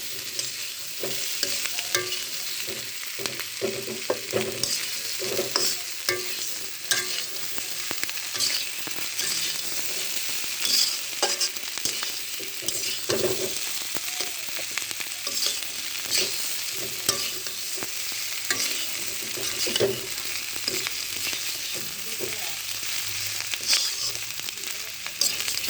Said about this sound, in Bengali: এভাবে আলুগুলো হালকা আঁচে ভেজে নিতে হবে।